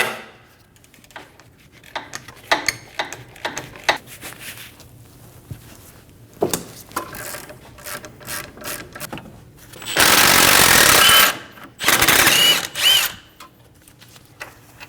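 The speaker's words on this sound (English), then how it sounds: "Using a 21mm socket, we're going to remove our caliper bolts." Bolts on a Volkswagen Passat front brake caliper being loosened with a 21mm socket during a wheel bearing and hub job; scattered clicks and knocks lead to two loud, sustained bursts of a power tool in a garage, without speech.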